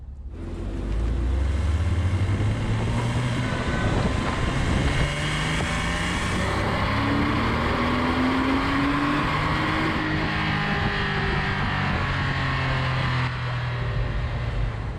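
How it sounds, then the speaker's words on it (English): A 2000 Porsche 986 Boxster S engine drones loudly and steadily from the cabin while driving, its pitch sweeping as the car pulls out of a corner on the throttle. "Back on the throttle, looking through the corner, you can drive it out on the gas."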